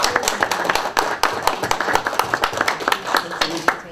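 Scattered clapping from a small gathering at a Board of Education meeting, a loose, uneven patter of hand claps with voices mixed in underneath.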